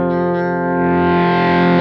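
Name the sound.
high gain distorted guitar tone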